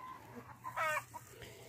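Chickens cluck close by on a farm where greens are being gathered to feed the chickens and a turkey, a short burst of clucking rising in the middle over quieter calls and a low background hum.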